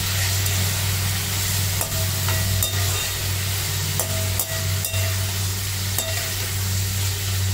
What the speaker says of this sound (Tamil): நல்லா வதக்கிட்டு காமிக்கிறேன். ஒரு 10 நிமிஷம் நல்லா வதக்கணும்